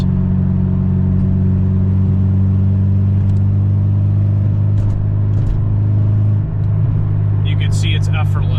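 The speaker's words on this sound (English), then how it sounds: "So I'm in 6th gear right now. If I give it a little bit of gas," A 225 hp Honda Civic Si cruising in sixth gear gives a steady low engine and road drone that swells slightly as it gently accelerates, with a few faint clicks near the end.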